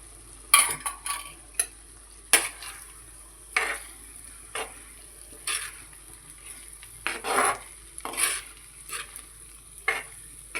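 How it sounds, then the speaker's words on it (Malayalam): Chicken thoran, Kerala style, stirred with spice paste in a pan: about ten short, regular scraping strokes of a utensil against the pan over a soft, steady sizzle, close up with no talk. "നന്നായിട്ട് ഇളക്കി യോജിപ്പിച്ച് കൊടുത്ത ശേഷം ഒരു 5 മിനിറ്റ് കഴിഞ്ഞിട്ട് നമുക്ക് ഇറക്കാം"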